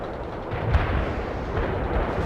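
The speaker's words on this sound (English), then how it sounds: "Deploy and lay down artillery strike on the barrage." Sustained artillery barrage in the World in Conflict video game, a dense rumbling wall of booming impacts that rolls on without pause, heavy and low.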